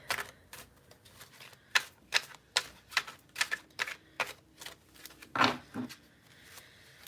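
Tarot cards being shuffled make a series of crisp, rhythmic riffling taps, about a dozen close bursts in steady succession, heard alone without talk.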